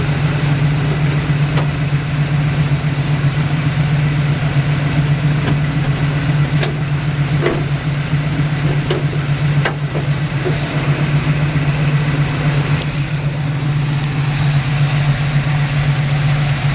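A 1970 Plymouth Cuda with a stock cam and exhaust idles steadily with a mild, even low rumble, close by and unbroken, with no talking.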